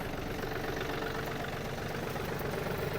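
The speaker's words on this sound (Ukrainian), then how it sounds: "Кардан крутиться, ножі працюють. Все тихо, стабільно, я навіть додам обертів." Yanmar AF-250 Japanese mini tractor running with the PTO shaft spinning and mower blades turning, a close, continuous loud engine drone with a steady knocking pulse throughout.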